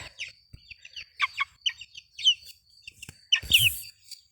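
A crested Chinese Silkie hen clucks in short, soft bursts, then lets out a louder squawk near the end, close by against a quiet background.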